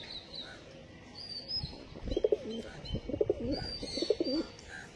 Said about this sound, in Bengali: একটা ওল্ড লাইনের পায়রা কিনতে গেলে কত দাম হয় দেখবেন